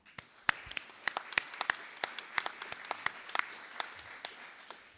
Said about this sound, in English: So maybe just a round of applause for those farmers.